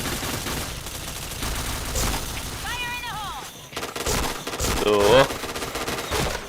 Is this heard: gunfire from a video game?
yes